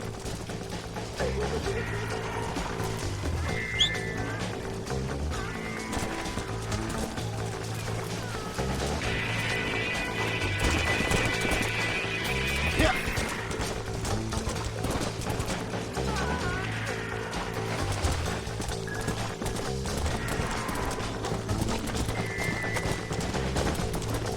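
Galloping horse hooves in the Red Dead Redemption video game, a steady clip-clop beating under a constant bed of orchestral game music, with a brief whinny mid-ride.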